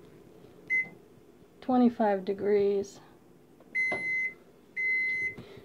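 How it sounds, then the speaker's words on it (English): An oven timer sounds while an old-fashioned apple pie bakes: a single short beep, then two longer high-pitched electronic beeps. A nearby voice speaks between them. "now the timer's going off"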